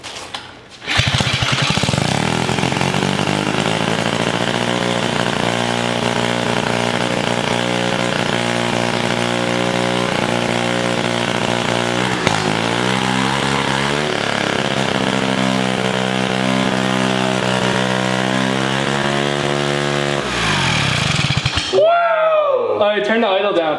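A turbocharged rotary minibike engine fitted with a new carburetor runs continuously for about twenty seconds, a loud, buzzy, steady drone with slight rises and dips in pitch, close by, before cutting off as someone begins talking.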